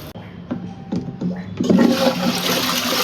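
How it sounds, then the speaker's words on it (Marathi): A toilet flushes indoors, starting with a few clunks of the handle before a loud rush of water surges and keeps gushing to the end. "फ्लश आउट करू."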